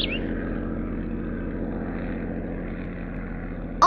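A cartoon airplane's propeller engine drones steadily and evenly in the Little Critter app game, holding at a constant level throughout, with a brief brighter chirp at the very end.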